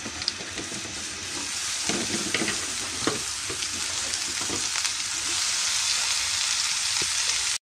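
Scallions, onion and green chilies sizzling and frying in hot oil, a steady loud crackle with occasional stirring scrapes, close up and without talk.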